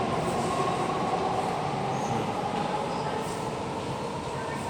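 A Doha Metro train runs with a constant loud roar from wheels and cabin, a steady close interior rumble with no break.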